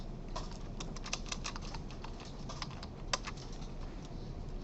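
Steady close-up clatter of typing on a computer keyboard during a programming lecture, with irregular rapid keystrokes and a few louder key hits, no talking.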